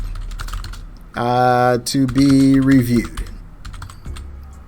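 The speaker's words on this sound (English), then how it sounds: "My typing is terrible" Clicky keystrokes on a computer keyboard, heard in quick bursts at the start and end of the clip, with a person speaking over the middle.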